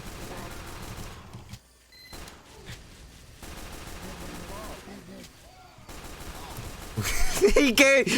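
Pistol shots from a Team Fortress 2 match come in scattered bursts between quieter stretches, growing louder and sharper near the end, with a voice talking over the action.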